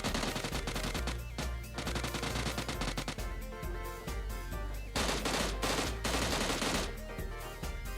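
Rapid automatic gunfire from PUBG fills the clip, loud and dense bursts of shots with brief gaps, alongside other battle sounds and no talk.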